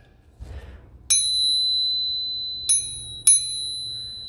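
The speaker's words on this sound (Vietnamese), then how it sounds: "chúng ta thấy tiếng gõ nó vang như chuông vậy đó, chứng tỏ là cốt nó rất là dày" Three sharp taps on a thick-walled Japanese bronze vessel, each ringing out like a bell with a clear, sustained tone that hangs in the air before fading, after a brief soft rustle at the start.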